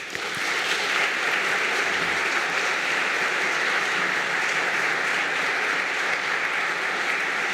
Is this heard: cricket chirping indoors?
no